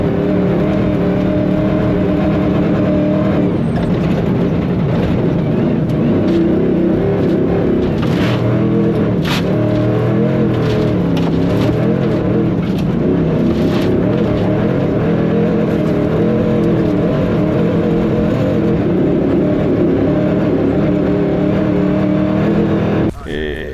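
A Century Racing Dakar rally car (CR6/CR7) drives hard during a test, its engine droning and revving continuously at close range, with someone talking over the noise throughout.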